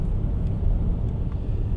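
A 2016 Hyundai Sonata Hybrid drives along the road, giving a steady low cabin rumble of road and engine noise, continuous and moderately loud with no talk.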